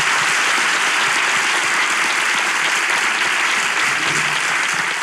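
A studio audience applauds steadily at the close of a Turkish relationship quiz show, with dense, sustained clapping that stays loud and even throughout, with no voices on top.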